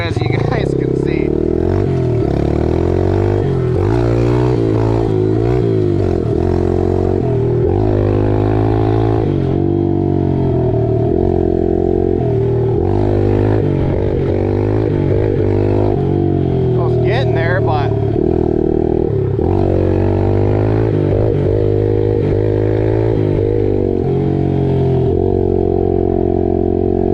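A 2026 Yamaha 110 motorcycle revs loudly and continuously during wheelie attempts, with the engine surging and dropping close by and a rider talking over it.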